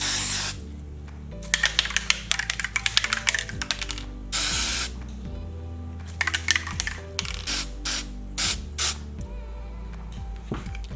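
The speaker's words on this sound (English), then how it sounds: "So it's just a finishing spray." Repeated short hissing bursts of an aerosol can of finishing spray being sprayed onto a sneaker, some quick and clustered, others longer, close up with quiet gaps between.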